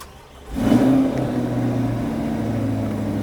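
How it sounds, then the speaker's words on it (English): A Chevrolet Corvette C8 engine fires up with a loud rise, then settles into a steady, throaty idle close by with no voices over it. "we wanna hear you fire up that C8 and give it a couple revs for us"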